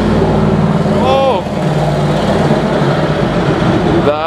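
A loud, raw engine roar from a Ferrari 458 with straight-piped exhaust fills the clip with deep rumble throughout, rising briefly in pitch once, then surging again near the end.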